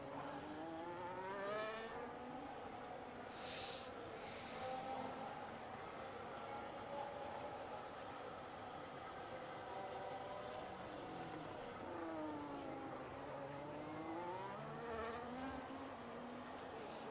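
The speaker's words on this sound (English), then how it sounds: "And Willow will be the final car across the line to end off Season 3" Race cars lap the Belgium circuit in a racing video game, their engines whining steadily and sweeping up and down in pitch as they pass, with several cars overlapping throughout.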